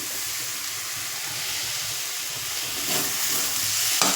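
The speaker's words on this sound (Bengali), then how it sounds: "এবার আমি ভাজা পটল আর আলুগুলো দিয়ে দেবো" Fried pointed gourd and potatoes go into sizzling spices in a pan, giving a steady, fairly loud hissing fry that swells slightly near the end with a brief clatter.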